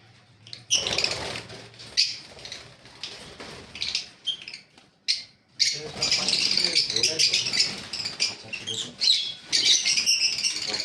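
Many caged birds under netting at a bird seller's squawk and chirp at close range amid bursts of wing flapping and fluttering, with a person talking over part of it.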